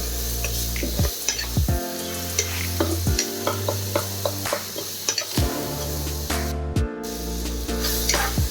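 Chicken with salt and turmeric fries in a pan for village-style Karnataka chicken curry, a loud close sizzle punctuated by repeated clanking stirs of a spoon against the pan.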